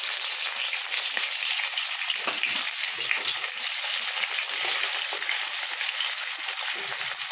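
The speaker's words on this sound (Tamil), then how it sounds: "வெங்காயம் கொஞ்சம் நேரம் வதங்கட்டும்." Onions sautéing in hot oil with popped mustard seeds, for a bitter gourd stir-fry: a steady, close, dense sizzle of frying with faint crackles, continuous throughout and no talking.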